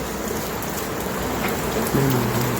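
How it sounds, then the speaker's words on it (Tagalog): Heavy rain pours steadily, a dense hiss of drops on surfaces, with a faint low rumble joining near the end. "Ilang araw na nga umuulan ito sa amin at ngayong araw nga din ang medyo malakas"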